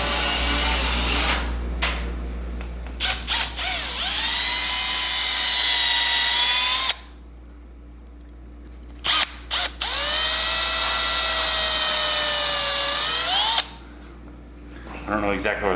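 A power drill bores holes for speaker brackets, with two long whining runs whose pitch rises as the motor spins up, each followed by short bursts, heard up close with speech around.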